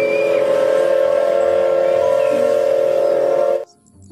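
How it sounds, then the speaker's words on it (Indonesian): A Thomas toy train sounds a steady electronic tone with a harmonic, horn-like hum, loud and unbroken for about three and a half seconds before cutting off abruptly. "Kereta api Thomas."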